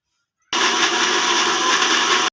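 A kitchen mixer grinder whirs into action, blending coriander leaves, soaked cashews and water into a paste; the motor starts abruptly after a moment of silence and runs at a steady, loud, close whine.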